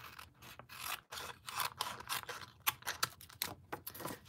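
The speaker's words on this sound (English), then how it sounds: "I just use that flap as a guide to be able to cut right around" Scissors cut paper around an envelope flap in a series of close, crisp snips and rustles, a dozen or so uneven strokes with short pauses between them.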